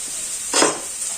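Carrots drop into a hot pan as carrots and lentils are cooked with sausages, giving a steady sizzle with one brief louder hiss and clatter partway through, and no one talking.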